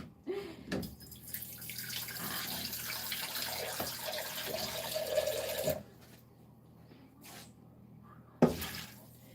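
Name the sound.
spring water poured over green lentils in a pot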